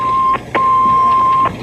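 A rescue station alarm in Howard County, Maryland, sounds a loud, steady electronic tone that breaks off once briefly and then holds again.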